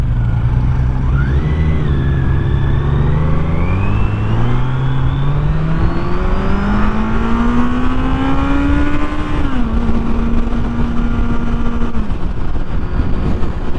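A Kawasaki Z900 motorcycle accelerates hard in first gear, its engine note climbing steadily in pitch for about nine seconds before dipping briefly and rising again, loud and close over constant wind rush.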